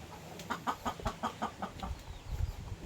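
Texas gamefowl roosters clucking in a yard in Tacloban, a steady run of short, fairly close clucks at an even rhythm with light background noise.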